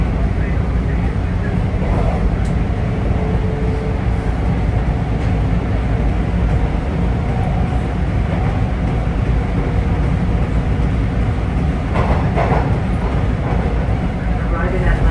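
A Toronto TTC Line 2 subway train runs along the line, giving a steady, loud rumble and rolling drone heard from the cab without a break.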